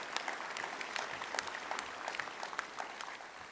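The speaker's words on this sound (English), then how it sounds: "Let's give them a round of applause for all they've done" Audience applause at a school district athletics Hall of Fame induction event, a quiet, distant patter of clapping hands that continues evenly throughout.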